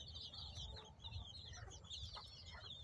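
Native gavran desi chicks and hens on a natural farm in Jalgaon, clucking and peeping in a steady, overlapping chatter close by, with high chirps throughout and soft low farmyard rumble beneath.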